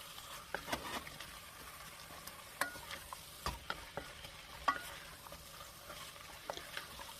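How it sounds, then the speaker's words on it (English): Chopped vegetables, garlic, pepper and carrots tumble into a Romanian chicken and pea stew and get stirred, giving scattered soft clatters and scrapes over a low steady sizzle, fairly quiet throughout. "Add the rest of the cut vegetables, the garlic, the pepper, and the carrots."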